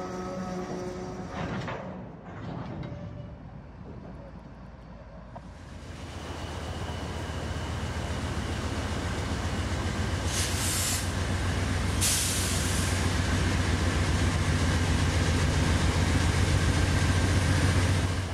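HO scale model train on a modern Norfolk Southern layout hauling empty coal cars, a steady low rumble building to a sustained hissing drone with brief high whines, fairly close and continuous.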